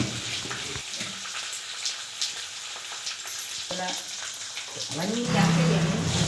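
Cumin, ginger, garlic, green chillies, chana dal and moong dal sizzle and crackle in hot oil in a pan, a steady close frying hiss with occasional stirring scrapes that grows louder toward the end.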